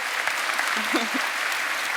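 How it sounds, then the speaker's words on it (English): A conference audience claps steadily in a dense burst of applause after a talk, with a brief voice heard faintly underneath. "Please give Evelin a round of applause."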